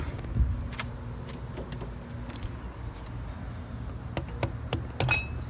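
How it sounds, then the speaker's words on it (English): Several sharp knocks from a rubber mallet striking a thermostat housing under the hood of a Dodge Challenger R/T, scattered dull hits with small metallic clinks over a low background hum. "Probably need to whack that with a rubber mallet."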